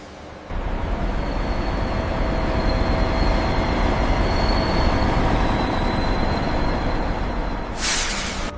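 A newly built modern locomotive rolls under its own power inside a train factory, a loud continuous rumbling drone with faint high squealing tones, ending in a brief hiss of air brakes.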